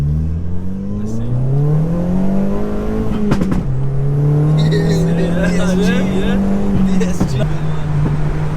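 A Stage 2 Skoda Octavia vRS with a DSG gearbox accelerating hard in third gear, heard from inside the cabin as the engine note climbs steadily, dips briefly with a shift, then pulls strongly upward again, loud and close, with people talking over it.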